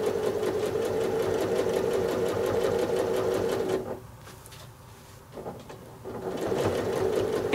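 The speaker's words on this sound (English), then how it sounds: "So now I'm carefully stitching in the ditch all around this shape." A sewing machine stitches in the ditch during free motion quilting of a house block, a close, steady mechanical whir that stops briefly midway and then resumes.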